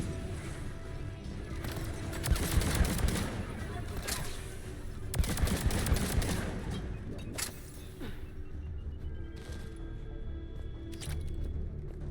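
A gun firing in Mass Effect 3, rapid bursts of shots and clattering impacts that come in clusters over a steady rumble of combat noise, fairly loud with no clear voices.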